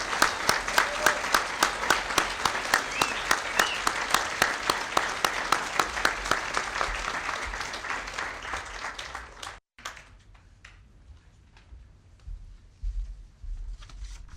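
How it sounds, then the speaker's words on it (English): Audience applause for finalists and competitors at a fall university speech showcase in Weber State's Lindquist College of Arts and Humanities: a large, dense round of clapping that breaks off abruptly, then thinner scattered claps and room noise follow. "give one very large round of applause to our finalists and competitors"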